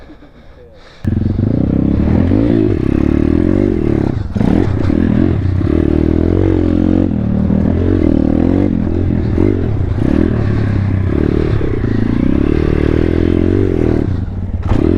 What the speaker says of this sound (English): it's just like a Chinese pit bike, Thumpstar